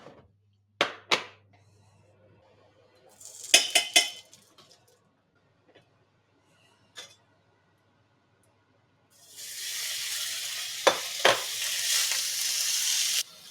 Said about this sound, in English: let's get the bacon on the grill